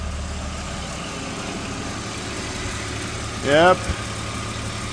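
A BMW E46 330ci idles close by, a steady low drone running throughout, while a voice speaks briefly over it near the end.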